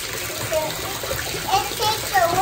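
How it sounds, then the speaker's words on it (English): Running water fills a bathtub with a steady, close hiss and gush, occasional light splashes mixed in, while a voice speaks faintly over it. "It takes a little bit to fill up."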